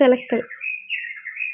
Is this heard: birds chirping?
yes